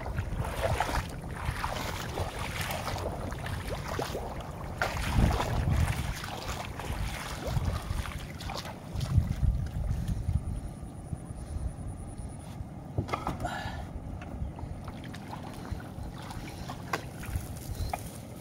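A boat engine drones steadily throughout, rough and continuous, blended with wind buffeting the microphone and water noise on an open waterway.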